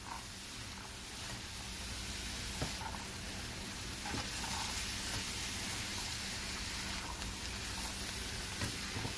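Fresh corn kernels stir-frying in a pan for coconut fried rice, a steady close sizzle and hiss with occasional scrape and stir noises, no talking.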